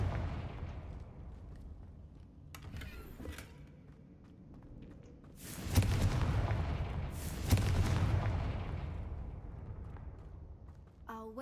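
Confringo blasting spell exploding in a Harry Potter video game on PC, two heavy booming bursts with crackling debris that fade into rumbling, close and moderately loud over a low ambient bed.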